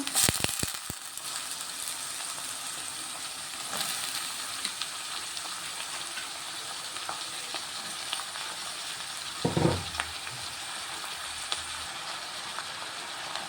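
Onions and broad beans sizzle steadily in a pan at low volume, a continuous frying hiss with occasional stirring scrapes and a brief clatter, no talking.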